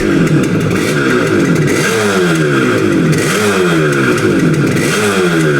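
Yamaha RD250D two-stroke motorcycle engine running loud and close, revving up and down in repeated rising sweeps with a rattly, buzzing exhaust throughout.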